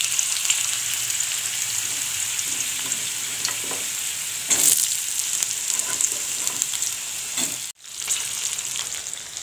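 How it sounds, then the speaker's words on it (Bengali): Potatoes fry in hot oil seasoned with panch phoron, giving a steady, close sizzle with stirring scrapes throughout and a brief sharp dip near the end before the frying resumes. "পাঁচ ফোড়ন। এবার দিয়ে দেবো এখানে আলু,"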